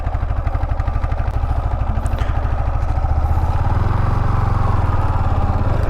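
A motorbike engine runs steadily up close beside Vadhvana Lake, its rapid thudding pulses continuous throughout with a slight shift in pitch partway through.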